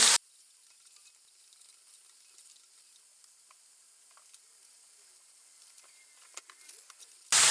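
Peppers dropped into a pan with kavurma meat sizzle and fry steadily at a low, even level, with a few small pops and stirring clicks near the end.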